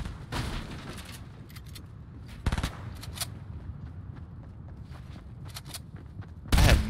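Gunshots in Fortnite: several loud, sharp shots spaced apart, with a strong one early, another near the middle and a final blast at the end, among faint smaller pops over low background noise.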